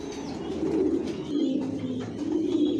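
Imported Janssen-line racing pigeons coo in a loft. Their low, throaty cooing overlaps in a steady, close chorus with faint chirps, and no one speaks.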